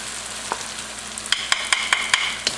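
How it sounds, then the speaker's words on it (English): Garlic goes into a pan of softened, browned onions for a spicy Andhra chicken curry, sizzling steadily while a utensil scrapes and clicks against the pan in quick, regular strokes, close up and with no voices. "So I'm going to add in my garlic."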